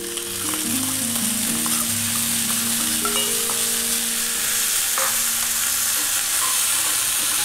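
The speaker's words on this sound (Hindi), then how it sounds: "हल्का सा अदरक जब भुन जाएगा तो हम ये दाना मेथी डाल देंगे।" Ginger frying in a pan over a low flame, a dense continuous sizzling hiss at steady loudness with faint stirring taps now and then and a soft tonal hum underneath.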